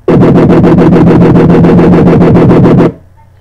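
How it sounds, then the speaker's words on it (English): Loud dubstep wobble bass synth made in FL Studio 10, pulsing in a steady fast rhythm for about three seconds, then cutting off abruptly into near silence. "so now your wobble should sound like this"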